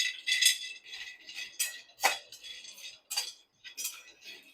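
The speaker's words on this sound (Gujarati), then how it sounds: "કડાઈમાં પહેલા તો આપણે મખાના શેકી લેશું" Makhana (fox nuts) roasting dry in a kadai, giving off a string of light, crisp rattles and clinks as the nuts are tossed, arriving in separate bursts with short quiet gaps between them.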